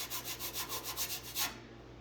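A hand rubs back and forth over surface rust on the body of a 1990 Ford F350 crew cab diesel truck, about ten quick, even scraping strokes, close and soft, then a faint hiss after the rubbing stops.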